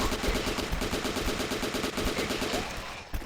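Rapid machine-gun fire shooting zombies in the video game The Last Stand, a dense, unbroken stream of shots that holds steady for about three seconds and then cuts off, with no talk over it.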